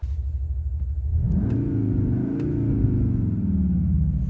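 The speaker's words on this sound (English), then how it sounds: "being a performance car and having the quad exhaust, you expect performance exhaust noises" A 2022 Cupra Formentor's engine rumbles low, then swells into a deep, beefy rev from the quad exhaust before settling, heard close with no talking.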